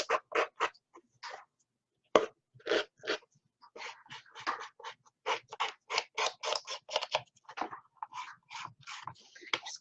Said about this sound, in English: Now I'm just going to trim the edges.